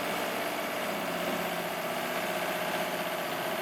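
The live steam power plant of an RC fishing boat runs in a tub test at about 45 psi, a steady, even mechanical whir and hiss with no change in pace, close up and without talking.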